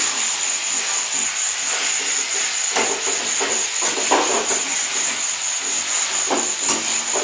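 Ginger garlic paste sizzling in hot oil as it is stirred, a loud, steady hiss with occasional scraping clicks and a thin high whine running throughout.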